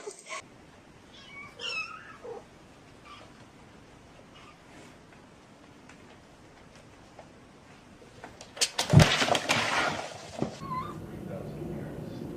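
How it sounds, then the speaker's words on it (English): A cat meows a few times softly early on, then a louder rustling, scraping commotion erupts near the end while people talk around it. "You're an evil cat."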